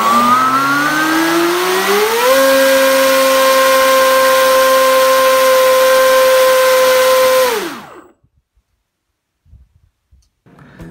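An NTM 3548 900kv brushless motor on a test bench, running on 6S and spinning an 8x10 propeller, gives a loud whining tone that ramps up, holds steady at full throttle, then winds down and cuts out, leaving near silence.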